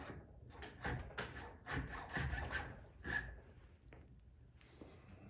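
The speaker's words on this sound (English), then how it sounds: "Chainsaw sharpening files, they work pretty good." A chainsaw sharpening file rasps through the hole of a vintage Cutco Puma knife handle being restored, giving several close scraping strokes in an uneven rhythm with brief pauses between them.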